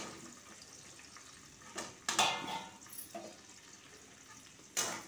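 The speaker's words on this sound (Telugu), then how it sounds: "కొంచెం వంకాయలు వేగనిస్తాను." Chopped brinjal fries in a pan with mustard seeds, cumin, asafoetida and curry leaves, giving a low steady sizzle broken by a few sharp scrapes and clinks of a spoon stirring against the metal.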